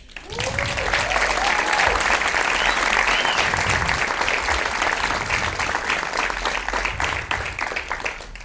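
A live stand-up comedy audience breaks into applause, a broad, full roar of clapping from a packed room that swells quickly, stays strong and thins slightly near the end.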